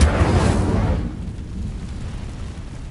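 Casting of the Incendio fire spell in Hogwarts Legacy: a loud, close fiery burst that booms at once and then fades into a rumbling, crackling roar over about three seconds, with no talk.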